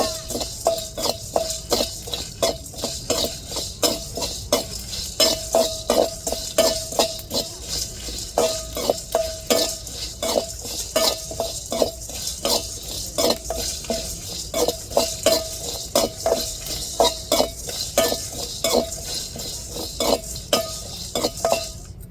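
Spices dry-roast in a pan without oil, a utensil scraping and clinking against the metal in a fast, steady stirring rhythm over a faint sizzle, close and sustained, with no talking.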